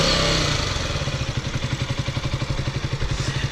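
A KTM Duke 125 motorcycle engine idles nearby, its exhaust note a steady rhythmic thumping pulse, loud and close, with no talking.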